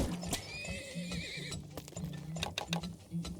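Horses in the video game Turmoil let out a high, wavering whinny, then steady hoof clip-clops pick up and repeat in a close, even rhythm to the end, with no talking.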